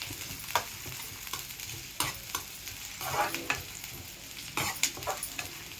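Garlic fries in a pan with a quiet sizzle, punctuated every second or so by stirring scrapes and occasional light taps of the spoon; no talking.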